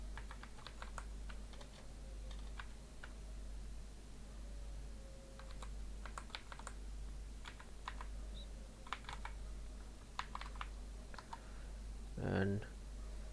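Someone types a login user ID and password on a computer keyboard, giving quiet scattered clusters of key clicks under a low hum, with a brief voice near the end.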